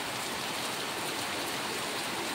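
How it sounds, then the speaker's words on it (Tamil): Steady rain pours down with water flowing and running along one side, a continuous close hiss with no pauses and no voices. "இந்த பக்கம் தண்ணி ஃபுல்லாகி போகுது பாருங்க."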